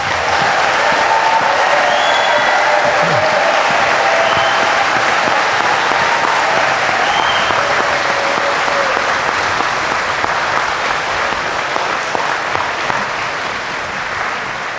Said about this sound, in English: thank you all for keeping the applause up from the start to the end